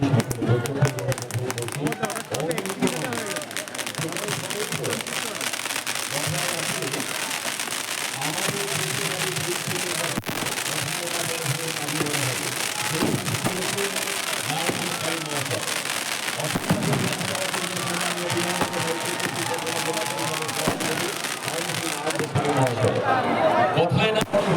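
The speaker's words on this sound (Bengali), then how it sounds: "আতশবাজি প্রদর্শনী" A New Year 2025 fireworks display in Ashoknagar sounds with scattered pops and crackles through a crowd's noise, largely under steady loud talking.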